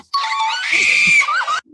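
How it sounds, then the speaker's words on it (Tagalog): A woman lets out a loud, high-pitched scream lasting over a second, rising and wavering before cutting off, close and clear with no other talk. "Grabe tumili."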